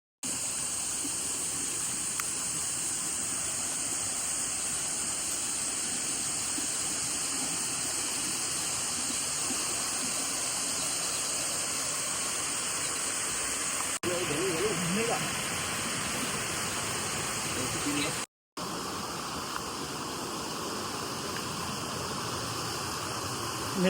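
A waterfall near Algamuwa, swollen and strong after recent rains, gives a constant broad rushing roar close by. It holds steady throughout apart from a brief cut.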